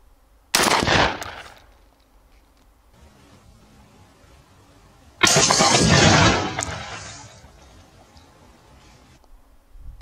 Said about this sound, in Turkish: Tek atış, tek vuruş.